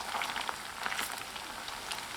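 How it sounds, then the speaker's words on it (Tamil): Chicken Manchurian pieces deep-fry in hot oil, giving a steady crackling sizzle with scattered pops and no voices. "இப்போ பொரிச்சு எடுத்துக்கலாம்."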